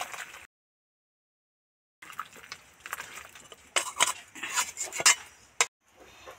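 A fish curry pot is lifted off the stove, with metal clinks and scraping, brief liquid sloshes and a sharp clank after a short silent gap.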